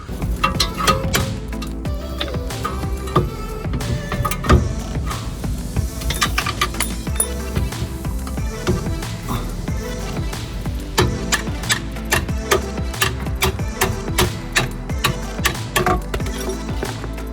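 Front left suspension arm being removed from a Skoda Superb (VW/Audi platform), giving scattered light metallic clinks and taps of tools and bolts against metal throughout, close and fairly quiet, with no talking.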